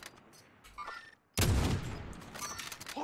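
Gunfire in a squad shooter match, a quiet stretch with distant pops before a sudden loud close burst of shots that keeps rattling on with echoing fire.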